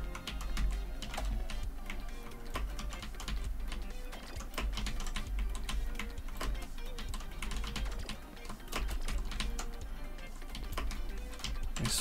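Quick, steady clicking of computer keyboard typing runs throughout, close and continuous at moderate volume, during a gaming session in Tower Unite.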